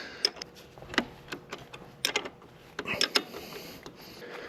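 Close, quiet metallic ratcheting and clicking as a bolt is unthreaded from a motorcycle lowering link, with irregular sharp ticks in short clusters and brief pauses between them.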